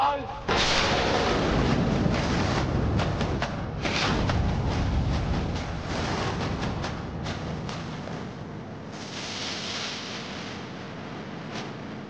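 Heavy gunfire in a Bengali period TV drama, a dense volley of loud, booming shots with rumbling echoes that fades gradually toward the end.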